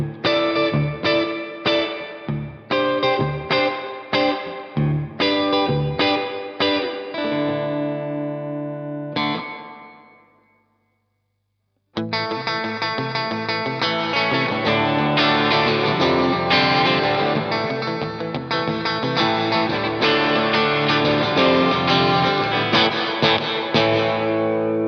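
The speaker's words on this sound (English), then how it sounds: "the delay control acts as a pre-delay" Strummed guitar chords drenched in reverb from an Electro-Harmonix Canyon pedal with pre-delay, a slight gap before the wash builds, a brief silence, then a dense, sustained reverberant chord.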